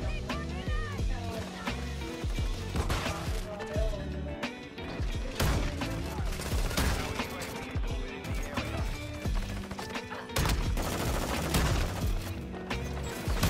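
Rapid gunfire crackles in Modern Warfare 2 third-person play on the small Shipment map, dense bursts and shotgun blasts stacking over a busy din while players talk throughout.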